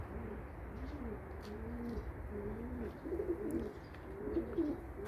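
Pigeons coo in a steady run of soft, low, repeated calls close by, one phrase after another over a faint background hiss with no voices.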